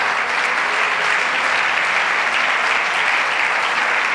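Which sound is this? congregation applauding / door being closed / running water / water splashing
congregation applauding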